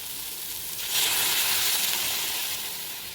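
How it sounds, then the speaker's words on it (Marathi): Dal is tipped into fenugreek greens in a hot pan over a medium flame, giving a broad steady hiss and sizzle that swells about a second in and holds at moderate loudness with no voices. "गॅसची फ्लेम मीडियम केल्यानंतर आता आपण यामध्ये घालणार आहोत आपली डाळ."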